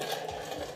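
A Dremel rotary tool trims a fiberglass side skirt for a 1993 Mazda Miata race car, a steady high-pitched whirring buzz running close and unbroken for the whole moment.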